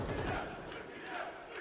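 Aurora fans cheer from the arena crowd during a BLAST Open Rotterdam 2026 esports semi-final: a faint, steady roar of distant voices that stays low and continuous throughout.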